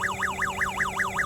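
A homemade air conditioner cooler unit's temperature alarm sounds a rapid warbling electronic siren, sweeping up and down in a steady repeating cycle, loud and close and heard alone.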